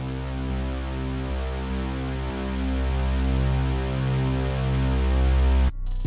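Bass one-shot sample in music production, a deep sustained droning bass tone that repeats and overlaps into a thick, muddy rumble for several seconds before cutting off abruptly.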